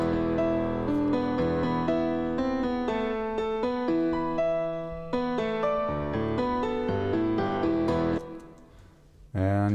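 Melody edited into proper scale plays back in Ableton as a steady run of bright synthetic notes over a low sustained part, fairly loud and without talk, cutting off near the end before a short burst returns.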